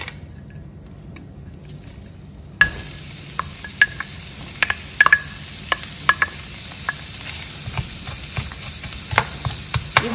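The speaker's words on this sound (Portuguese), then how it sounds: "Agora na frigideira, com um pouquinho de óleo, nós vamos adicionar cebola e alho." Onion and garlic fry in a little oil in a skillet: quiet at first, then a sudden bright sizzle erupts and continues with crackles and occasional utensil clicks, close and alone.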